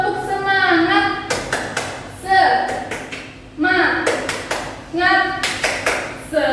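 Rhythmic 'tepuk semangat' clapping game in a classroom: groups of quick, sharp claps in repeated bursts, alternating with voices chanting in between, close and lively.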